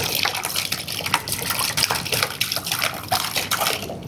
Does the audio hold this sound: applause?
no